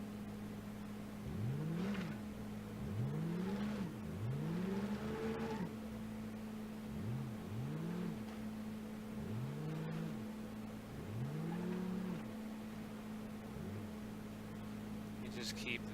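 Junk pre-runner SUV engine in four-wheel drive in BeamNG.Drive, revving up and down in repeated rising and falling sweeps over a steady drone, moderately close, with someone talking over it.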